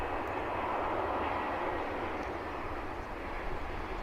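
A Delta airliner takes off at DFW Airport, heard as a steady, broad jet roar at moderate distance with no other sound breaking through.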